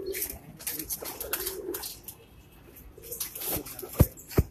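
Male pigeons coo together in a rooftop loft, soft throaty calls rising and falling close by, with a couple of sharp knocks or wing clatters near the end.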